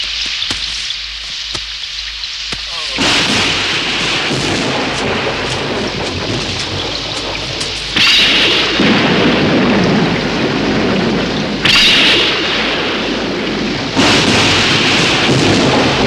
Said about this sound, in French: Allons, bon, voilà la pluie,